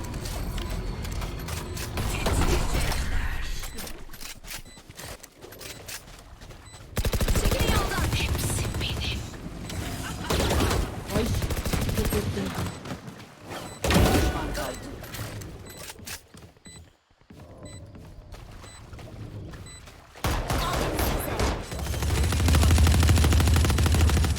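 Rapid gunfire rattles through a round of the video game Valorant, with dense bursts of shots that come and go for over twenty seconds amid other game effects, loud and close, and players talking over it.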